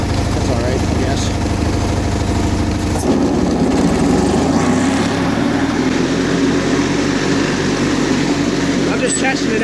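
A John Deere lawn tractor engine runs continuously in a steady, throbbing idle, changing pitch and load partway through as the mower is engaged, close and loud throughout.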